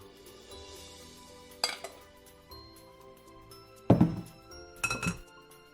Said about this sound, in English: And then you just use this spoon and squeeze it out.